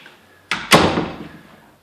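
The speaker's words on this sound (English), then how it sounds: "So this is a 9-light door that we can lock" A nine-light glass-paned interior door for a house's master suite gives two quick, sharp knocks or clunks of the latch and frame, close and loud, then a short fading rattle, with no talking.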